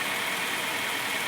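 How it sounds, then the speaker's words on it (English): A 1996 Honda Civic 1.6 engine idles steadily with a smooth, even hum and hiss, close and constant for the whole moment, with no talk. "so now we started the engine"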